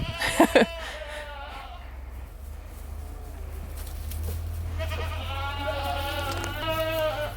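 Goats bleat on a small farm: a couple of sharp calls at the start, then a longer wavering bleat later on, all over a steady low hum.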